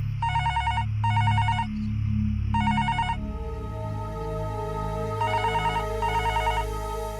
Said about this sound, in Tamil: கிர்ரு கிர்ருன்னு சத்தம் தான் கேக்குது. அப்படின்னா ரிங் போகுதுன்னு அர்த்தம்.